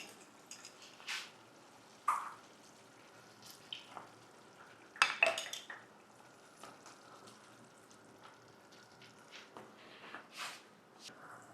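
A spoon stirs prawn curry in a pan after coconut milk is added, making intermittent scrapes, clinks and soft sizzles, with a louder cluster of knocks midway and quiet stretches between.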